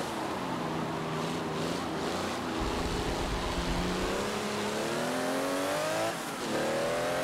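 Ferrari 375 engine in the racing game Forza Motorsport 7, pulling hard at high speed: a steady, loud racing-engine drone whose pitch climbs smoothly through the gears, with a brief dip near the end as it shifts, no talking.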